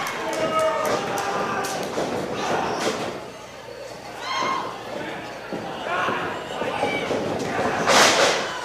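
Wrestlers trade elbows and strikes in a ring, giving a run of scattered thuds and slaps over a noisy crowd while a commentator talks throughout.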